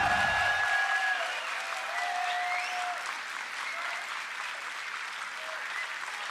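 A dense crowd applauds loudly at a League of Legends esports match, a continuous wash of clapping that stays strong throughout with a few faint whistles mixed in.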